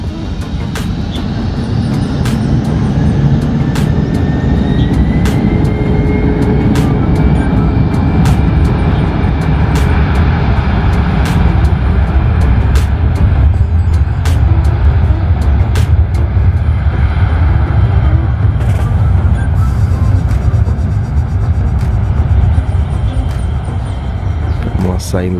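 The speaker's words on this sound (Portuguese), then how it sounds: "vamos ouvir o ronco dos motores" Gulfstream G450 business jet taking off, its engines roaring loudly and continuously throughout, a broad sustained rumble with some talk mixed in.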